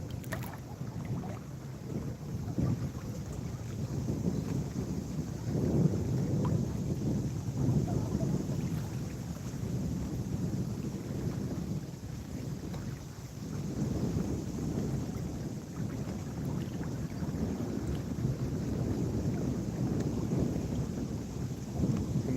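Wind buffeting a microphone while a fishing boat drifts on a lake, a continuous low rumbling roar that swells and eases in gusts, with no talking.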